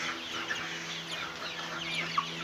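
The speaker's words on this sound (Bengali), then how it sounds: "সবগুলো মুরগি" Chickens in a poultry pen clucking softly, faint scattered clucks over a steady low hum, with no voices.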